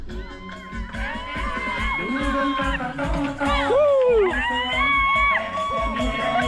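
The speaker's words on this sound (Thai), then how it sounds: "โอ้ข้างหน้ามีกองเชียร์ด้วย" Spectators cheering runners along a half marathon course in Thailand, with a lively crowd whooping and shouting close by, high excited voices rising and falling over steady background noise while runners pass.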